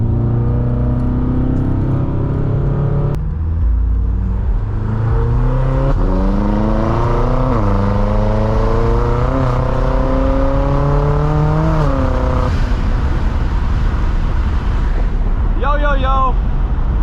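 A Stage 2 tuned BMW M6 driving at night revs and accelerates through repeated upshifts, its engine note climbing then dropping in steady steps, loud and close, with a brief voice near the end.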